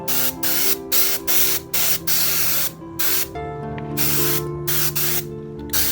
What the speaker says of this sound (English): then I'll spray the middle.